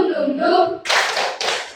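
A voice speaks briefly, then two loud bursts of hand clapping follow in quick succession, close by.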